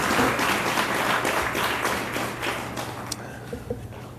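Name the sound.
audience applause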